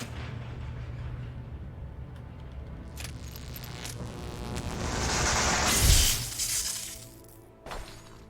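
A flashbang grenade goes off in the video game Alan Wake: after a low, steady rumble, a loud swelling blast bursts out with a bright, shattering crack, then tails away into a fainter ring before a final short knock.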